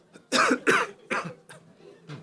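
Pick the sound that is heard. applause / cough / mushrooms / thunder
cough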